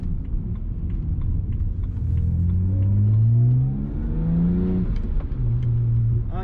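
A BMW E90 328i's exhaust rises through gears, a deep droning note climbing in pitch, dropping at a shift, then climbing again from inside the car.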